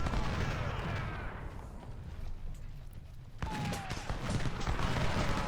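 Artillery and rifle fire in the Ultimate General: Civil War battle game, a steady rumbling din of distant gunfire with scattered pops, softening midway before a loud renewed burst of volleys; no talking.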